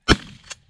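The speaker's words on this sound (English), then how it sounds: "Single duck, take him! Shoot that duck." Single sharp shotgun blast fired at a duck during a goose hunt, a loud close crack followed by a short echoing tail and a fainter second report.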